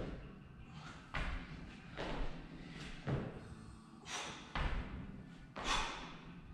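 Burpee push-ups in a kettlebell workout land as several dull thuds on the floor, spaced roughly a second apart with soft shuffling between them, fairly quiet and with no talking.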